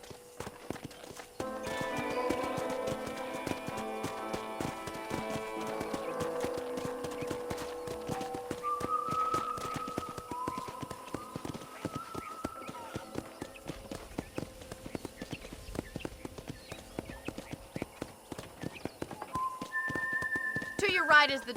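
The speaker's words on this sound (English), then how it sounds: "I picked out a fine horse for you." Horse hooves clip-clop at a walking pace in the Red Dead Redemption video game, a steady run of taps under melodic musical score, with a brief whinny near the end.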